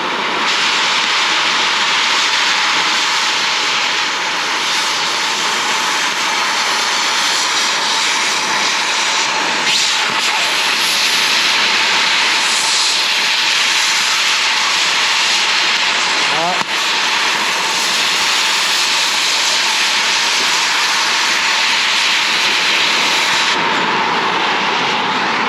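An oxy-acetylene cutting torch cutting into 2-inch steel, a loud, continuous roaring hiss that holds steady for the whole stretch, with faint voices at moments.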